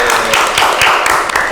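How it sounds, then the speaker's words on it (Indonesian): A group of women clap together at a beauty event in Denpasar, a dense, steady patter of applause filling the whole moment, close and loud. "Tepuk tangan dulu"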